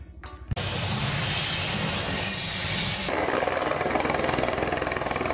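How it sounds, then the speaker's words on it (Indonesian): A loud, steady roar from a blue and silver army helicopter with a high whine and rapid rotor chop, starting abruptly after a short click and continuing without pause. "Helikopter tentara"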